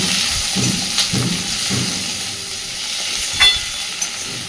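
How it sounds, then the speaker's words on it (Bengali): Pumpkin and small shrimp get stirred in a pan over the heat, a loud even sizzle with soft rhythmic scrapes of the spatula and a brief clack near the end. "চিংড়ি মাছ দিয়ে একটু নাড়াচাড়া করে নেব"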